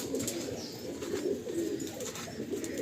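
Giribaj pigeons in a loft, soft low cooing murmuring continuously at a moderate level over a faint hiss of background noise.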